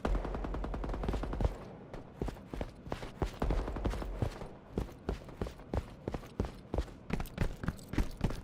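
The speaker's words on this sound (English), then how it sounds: "What is this? An auto shotgun?" Rapid automatic shotgun blasts fire in bursts in the sci-fi shooter game Deadrop, loud and close, with sharp repeated shots across the clip and brief pauses between volleys.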